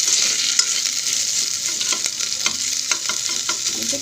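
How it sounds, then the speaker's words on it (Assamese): Ginger garlic paste frying in a pan after the onions, giving a steady broad sizzle with scattered scrapes and taps from stirring, close and continuous, with no voices. "আদা নহৰু পেষ্টখিনি গোন্ধটো যোৱালৈকে মই অলপ সময় ভাজিম।"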